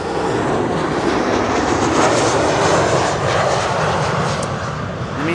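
Loud, continuous roar of a large jet airliner landing on the Kaagbaan runway at Schiphol airport, a broad steady engine rumble that fills the whole clip at close range with no talking.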